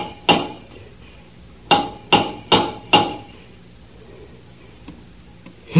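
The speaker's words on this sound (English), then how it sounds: "Take the hammer and answer the signals." Five sharp metallic hammer knocks against a submarine hull, a single blow followed by a quick run of four evenly spaced strikes, loud and close with short ringing decay, then faint small taps in a quiet radio-drama scene.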